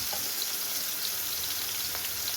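Tomatoes hit a pan of frying onions and produce a soft, steady sizzle with faint crackles. The sound is quiet and continuous, and no one speaks.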